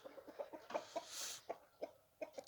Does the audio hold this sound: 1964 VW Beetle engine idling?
no